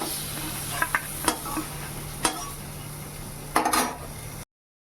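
Fried pointed gourd slices being lifted out of a pan with a utensil, giving a soft steady sizzle with a few sharp scrapes and clinks of the spatula against the pan, close and alone.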